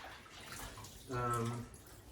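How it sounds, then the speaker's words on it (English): A small pleather shirt from a collectible figure is swished and washed in water with detergent, giving a faint sloshing wash with a brief louder swell midway and a voice briefly present. "I'm gonna wash that pleather shirt also in the detergent"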